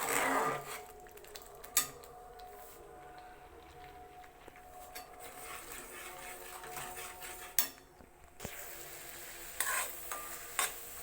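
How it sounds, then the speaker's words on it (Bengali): Milk being cooked down in a pot and stirred for kalakand sweet: scattered scraping and clinking of a utensil against the pot, with a few sharp knocks over a quiet background and faint sizzling. "আমি আর একটু জাল দিয়ে দেবো দুধটা"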